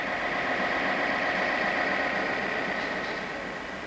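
An alternator rotor assembly spins on a balancing machine with a steady, even mechanical hum and whir that holds constant and fades slightly toward the end.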